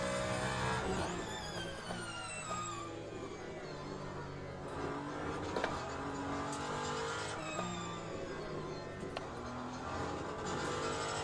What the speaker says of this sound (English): So 1 lap completely on the internal combustion engine only.